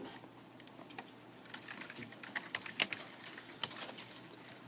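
Light, fast typing on a computer keyboard while entering cell content in Microsoft Excel, producing soft, close, irregular key clicks over a quiet background.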